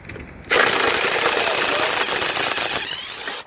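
An Aerobie 1/2 inch air impact wrench removes a part during tire and airbag sensor work, giving one sustained loud burst of rapid rattling hammering for about three seconds that starts abruptly and cuts off sharply.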